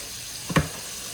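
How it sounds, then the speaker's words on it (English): Steak sizzles in melted butter in a pan: a steady, soft frying hiss with a brief louder burst of sizzle partway through. No one talks. "So now that the butter's all melted, what you're gonna want to do, all right? You're gonna let it cook"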